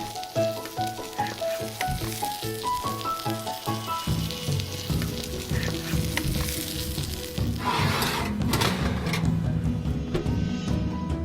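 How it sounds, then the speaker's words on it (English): Steady sizzling of meat searing in a hot pan, loud and continuous, with a scrape or stir partway through. "Frying it on a pan just to give a good sear on the bottom and the top"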